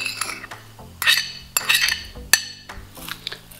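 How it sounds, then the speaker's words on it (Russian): Minced meat and round rice being stirred together for stuffed peppers, with a spoon clinking and scraping against a bowl in several separate bursts, close and moderately loud, no talking. "И хорошенечко это все перемешиваем."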